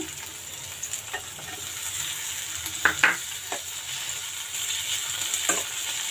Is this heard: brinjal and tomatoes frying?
yes